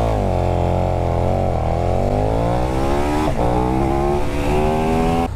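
A KTM 1290 Super Duke EVO motorcycle accelerates hard from standstill toward 60, its engine note rising loud and close through gear changes with brief dips between them.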